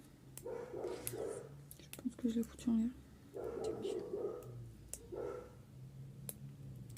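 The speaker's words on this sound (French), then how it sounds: "Désolé pour le chien." A dog barks in short, sharp bursts close by while a person talks in a low voice, the yaps scattered between and over the speech.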